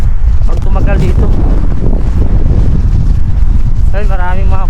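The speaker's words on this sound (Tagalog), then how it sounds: "Malakas yung hangin." Strong wind in Greenland buffets the microphone in a constant loud, low rumble, with a voice faintly heard beneath it at moments.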